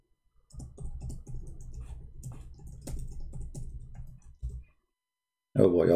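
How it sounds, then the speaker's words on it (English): Quick clicking keystrokes on a computer keyboard during a live online debate, a steady rapid patter for several seconds under a quiet room, stopping before a voice speaks at the end. "Oh boy, I was typing in Arabic."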